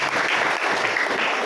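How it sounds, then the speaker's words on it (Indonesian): Brief burst of congregational applause during a Christmas church service, dense even clapping from a crowd, fairly loud with no voices over it. "Beri tepuk tangan buat Tuhan kita."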